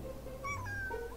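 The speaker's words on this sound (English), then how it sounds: "You wanna meow for the camera?" A cat gives one short rising meow, fairly quiet and close, over faint room noise.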